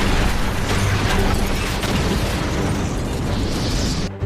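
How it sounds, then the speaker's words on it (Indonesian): A loud, sustained blast from an explosion in a plaza in a film, with roaring, crackling debris and rumble filling the whole stretch, cutting off abruptly at the end. "Ledakan susulan mengguncang area plaza, menewaskan banyak orang dan melukai beberapa rekannya sendiri."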